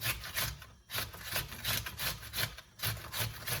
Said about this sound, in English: when I grate the celery, I do it with the whole stalk